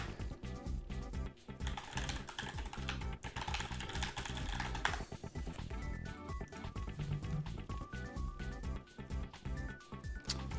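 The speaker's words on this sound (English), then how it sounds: "Let me type that up in the scoreboard as well." Computer keyboard typing while entering names into a scoreboard during a Melty Blood: Type Lumina tournament stream, dense rapid clatter of keys running throughout over background game sounds.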